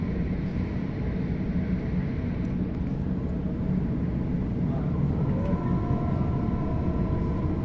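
Sydney suburban train running on the line between Redfern and Strathfield, a steady loud rumble of wheels and carriage heard from inside, with faint squeals rising near the end.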